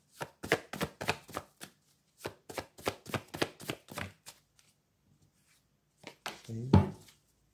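Tarot cards being shuffled and handled, a rapid series of crisp slapping taps in two bursts, followed by a pause and a final few louder card sounds.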